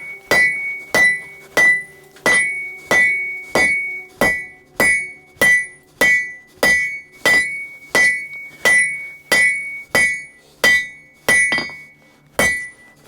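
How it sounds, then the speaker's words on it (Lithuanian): Steel blank, heated for making blacksmith's tongs, hammered into a strip: about eighteen evenly spaced ringing hammer blows with bright metallic overtones, close and loud, each followed by a short decay, with no talking. "Ištraukiu ruošinį, kalu juostą iš jo."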